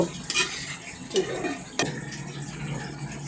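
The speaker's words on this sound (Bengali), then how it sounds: "শসা চিংড়িটা কি সুন্দর তেলে ফুটে উঠে আসছে" Cucumber and shrimp chorchori cooks in oil in a pan, a soft bubbling sizzle punctuated by sharp spatula scrapes and clinks against the pot.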